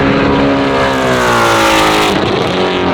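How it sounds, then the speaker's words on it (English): Race cars at Willow Springs track speed past at around 140 mph, a loud steady engine roar with rising and falling pitch as each car sweeps by, no talk over it. "watch cars fly by at 140 miles an hour"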